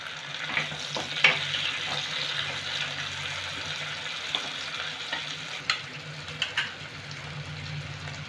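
Tomato frying in a pan over medium gas while mustard rohu fish is prepared, a soft low sizzle with occasional clicks and stirring scrapes, quiet and close, no voice.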